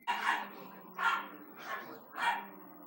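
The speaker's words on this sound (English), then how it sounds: "My dogs fucking constantly barking at each other, fighting." Dogs bark at each other in a home in four loud, evenly spaced bursts, each a sharp bark with yappy overtones, close to the listener.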